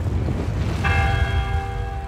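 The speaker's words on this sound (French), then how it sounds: "Le premier coup de cloche brise le silence glacé" A single church bell strikes once in a countryside setting, a clear ringing toll with a long sustained hum that rises over steady wind-like background noise.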